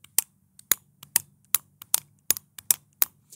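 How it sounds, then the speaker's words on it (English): Sharp mechanical clicks from a sump pump float switch turning on and off repeat at uneven intervals, about a dozen in a few seconds, close by over a faint low hum. "you can hear that switch going off and on"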